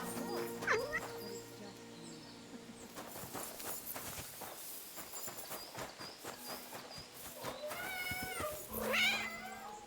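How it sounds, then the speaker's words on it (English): Several cats meow in Kingdom Come: Deliverance 2, with short, rising calls at the start, in the middle and at the end, mixed over game ambience, a barking dog and the clip-clop of horse hooves. "Is that meowing?"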